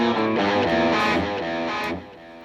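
A distorted electric guitar chord rings through a plain mono digital delay, Line 6 original model in Helix Native, with repeats trailing under the note before it fades to a quieter tail.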